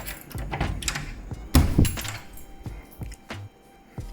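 An interior house door rattles and knocks in its tight frame, a series of irregular thuds and clunks with light metallic clinks, close by and moderately loud.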